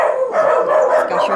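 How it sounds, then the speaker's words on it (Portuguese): A fierce pit bull barks in loud, rapid bursts close by in a rural yard, its deep barks overlapping continuously throughout. "Esse cachorro daqui é brava, viu,"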